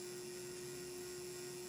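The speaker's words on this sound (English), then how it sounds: "Now I'm drilling a through hole here." A drill bores a through hole in a whirligig part for a small pipe pivot, a steady, continuous whine holding one pitch at moderate level with no pauses.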